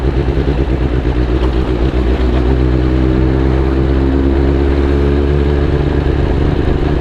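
A heavy vehicle engine drones steadily and loud at close range for several seconds, a continuous low rumble with faint clatter, as a bus passes on a road along the Isle of Man TT course.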